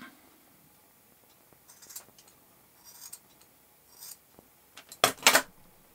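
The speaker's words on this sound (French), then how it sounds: "je vais couper ici avec des ciseaux" Scissors cut through the cord of a survival bracelet, giving a few quiet snips and rubbing scrapes early on, then two sharper, louder crisp cuts near the end, close up with no talking.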